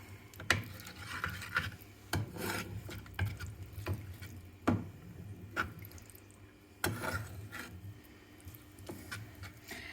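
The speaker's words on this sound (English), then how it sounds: "So now we can stir everything in." Salsa verde ingredients with anchovy paste and garlic get stirred in a bowl, producing soft, close scraping and tapping strokes at an uneven pace with quiet pauses between.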